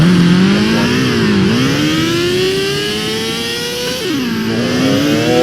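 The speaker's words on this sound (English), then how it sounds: "we want to drive the McLaren F1" A McLaren F1 engine revs in Garry's Mod, a loud, close, buzzing mid-pitched tone that climbs, dips around a gear change, climbs steadily again, then drops and rises once more near the end.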